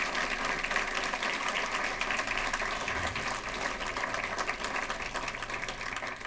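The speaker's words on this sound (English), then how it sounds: "I think we ought to give him another applause." Audience applause at a Martin Luther King Jr. community celebration, a steady, fairly faint wash of clapping heard from a distance over a low hum.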